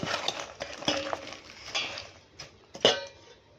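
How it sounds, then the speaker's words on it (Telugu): Chopped ingredients with onion and garlic are mixed by hand in a bowl, giving soft scrapes, squelches and a few sharp clinks at an irregular pace, close by and without talk. "ఇలా వీటన్నిటిని కూడా ముక్కలకి పట్టేటట్టు మనం చక్కగా కలుపుకోవాలి"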